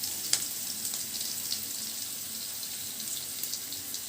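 Ginger paste and curry leaves frying in a pan for a spicy Telugu egg fry, a soft continuous hiss with a few faint pops, no speech.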